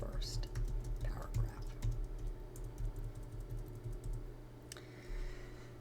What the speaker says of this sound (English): start typing your first paragraph